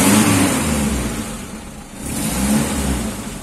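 A Mitsubishi L300 engine revs up and down in two loud surges, close by, with no talking.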